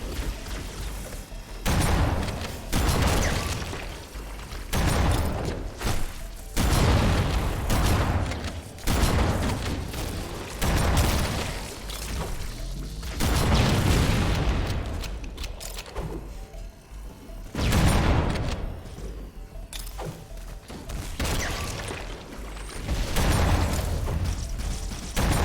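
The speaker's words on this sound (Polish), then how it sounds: "Akurat na twarz mi wybuchł." Dense, continuous barrage of explosions and gunfire from the video game Halo: Combat Evolved Anniversary, loud and unbroken throughout with heavy booming blasts and rapid shots layered together.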